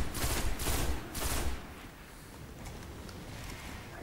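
Rapid gunfire from a weapon in the video game Destiny comes in three close bursts in the first second and a half, fairly loud, then gives way to quieter game ambience with no talk.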